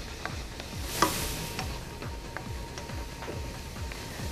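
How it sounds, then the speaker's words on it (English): Chicken pasta mixture with sun-dried tomatoes frying in a pan, a steady sizzle broken by repeated stirring scrapes and a sharp clack near the start, with no talking. "since that's frying up a little bit"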